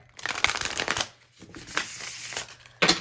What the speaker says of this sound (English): we'll give her one more shuffle